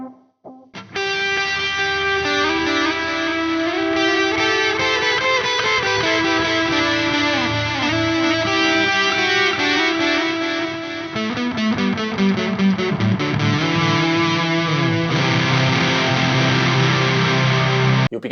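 Electric guitar through a Reeves Darlington Flyer fuzz pedal with added reverb and delay plays continuously, thick, saturated and loud, with sustained chords and ringing notes and no talk.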